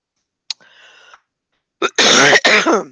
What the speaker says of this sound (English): Perfect time for a cough, right?